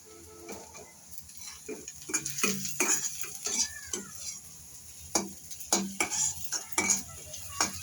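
Onions frying in a pan until browned, stirred with frequent sharp metal scrapes and clinks over a low sizzle, close and busy, with no talking.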